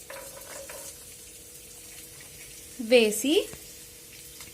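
Ginger and garlic pieces fry in oil in a pan with a low, steady sizzle, and a voice speaks briefly over it partway through.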